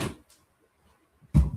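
An indoor door is pushed shut, with a soft knock at the start and a firm, close thud at the end, separated by near silence.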